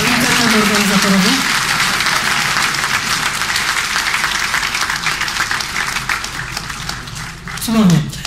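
An audience at a tech conference talk applauds steadily with dense, sustained clapping, loud and close, fading slightly near the end.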